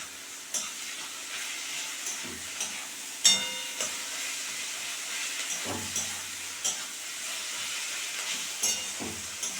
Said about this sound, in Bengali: পাঁচ থেকে ছ মিনিট ভাজা করবো